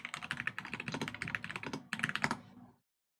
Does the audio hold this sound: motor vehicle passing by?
no